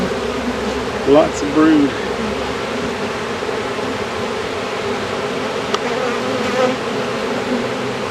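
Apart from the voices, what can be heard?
honey bees buzzing in an open beehive in December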